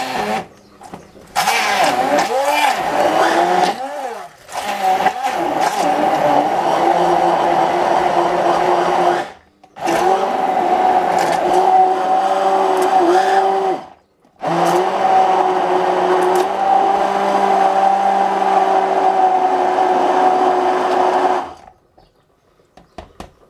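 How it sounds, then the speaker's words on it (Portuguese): An immersion hand blender grinds onion for a homemade seasoning, its loud, steady whirring motor running in three long stretches separated by two brief stops before it switches off. "Vou ligar aqui a varinha."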